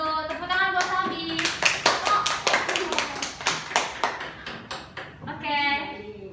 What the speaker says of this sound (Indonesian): Tepuk tangan buat Salbi